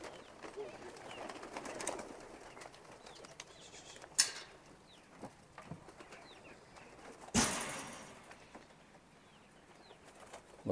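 Kosovo and Macedonian tumbler pigeons in flight, with faint, distant wing flutters and a couple of sharper wing-clap bursts over a quiet outdoor background.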